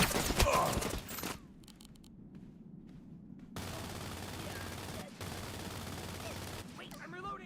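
Gunfire from the online shooter Wild Assault, a dense burst of rapid shots at the start, then sustained rattling combat noise with brief gaps, heard alongside in-game voice chatter.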